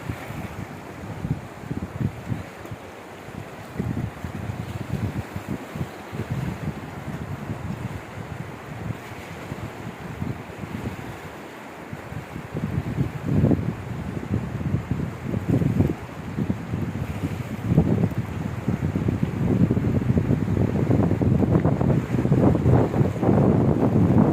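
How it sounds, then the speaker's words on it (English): The Suru River flows gently below snow-capped mountains as a steady, broad rushing wash, with gusts of wind buffeting the microphone and swelling louder toward the end, and no voices. "The flow of the river is not furious, it is something gentle."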